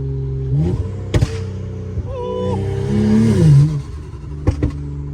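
A turbocharged BMW N55 engine in a 335i revs with sharp blips and a sustained climb, the turbo whooshing and spooling between throttle stabs, close and fairly loud.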